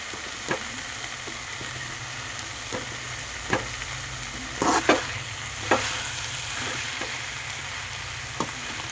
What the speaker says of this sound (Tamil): நல்லா வதங்கிடுச்சு பாருங்கள். எண்ணெய் பிரிஞ்சு வருது பாருங்கள்.